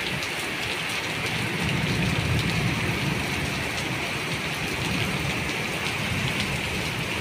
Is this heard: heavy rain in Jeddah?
yes